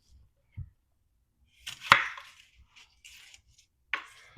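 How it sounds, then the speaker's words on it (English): A knife chops a medium-sized onion in a few sparse, separate cuts, each a short, quiet knock with pauses between. "I want to chop up one medium-sized onion"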